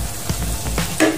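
Ground beef fries in a pan, giving a close, steady sizzle with a few stirring scrapes over one brief stretch and no voices.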